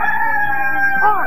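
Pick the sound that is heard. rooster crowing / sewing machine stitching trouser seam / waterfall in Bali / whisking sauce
rooster crowing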